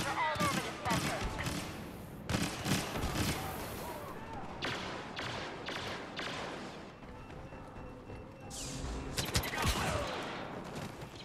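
An infantry turret in a video game fires repeated bursts, sharp crackling shots in irregular clusters mixed with thuds and battle noise throughout, with people talking.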